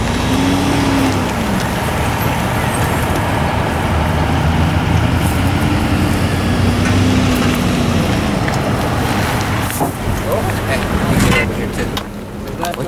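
Cars passing on a road produce a loud, continuous traffic roar with a few engine tones rising and falling as vehicles go by, close to the listener.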